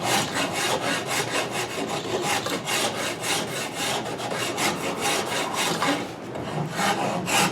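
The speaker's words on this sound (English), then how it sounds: "I'm going to start now with the rasp." A rasp files a wooden guitar neck at close range, a steady run of quick rhythmic scraping strokes that continues loudly throughout with no talking.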